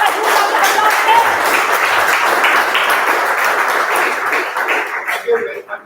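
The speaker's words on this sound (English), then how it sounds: "Can we have a huge round of applause?" Applause from a Toastmasters club meeting audience, a sustained broadband wash of clapping that holds steady for several seconds with some voices mixed in, then thins out and fades near the end.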